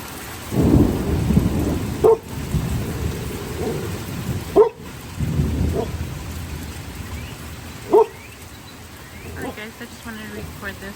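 A Midwest summer thunderstorm brings steady rain with rolling thunder and a few sharp cracks nearby, while a person talks softly at times over the weather.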